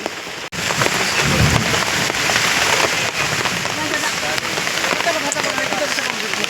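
Heavy monsoon rain pounds a tarpaulin shelter at an outdoor village cooking feast, a dense, steady roar of drumming drops throughout, with people talking underneath.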